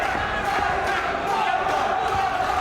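Boxing arena crowd at a super middleweight Prizefighter bout, a steady wash of shouts and calls rising in waves to urge the fighters on, with a commentator talking over it.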